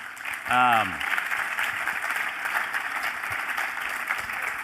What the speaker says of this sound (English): Give a round of applause for Greg.